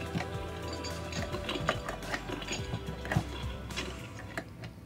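An electronic ice sound effect from an American Girl toy kitchen set plays up close: a few seconds of dry, clattering, rattling clicks in an uneven rhythm.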